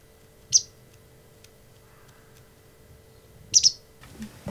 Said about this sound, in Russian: Голодненькая птичка, да?